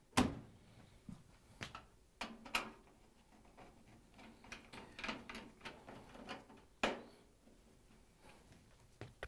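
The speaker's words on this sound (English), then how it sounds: "we can close the door and tighten up the ones in the back" A GE dryer's door swings shut with a soft knock, followed by scattered faint clicks and taps as the back screws are tightened, all quiet and close with gaps between.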